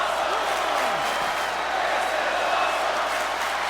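An arena crowd in the WWE SmackDown vs Raw video game keeps up a dense, steady wash of cheering and applause at a constant level, with a voice briefly heard within it.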